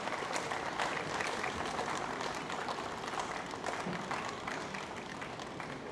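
A large audience applauds steadily at a formal ceremony honouring higher secondary examination toppers during a book launch event, a dense, even wash of many hands clapping throughout, with no voices standing out.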